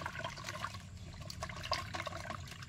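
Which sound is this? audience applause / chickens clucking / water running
water running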